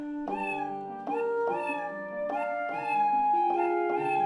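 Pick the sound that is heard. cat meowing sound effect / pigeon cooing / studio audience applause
cat meowing sound effect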